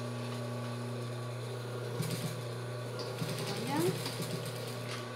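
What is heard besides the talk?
sewing machine backstitching a fabric strip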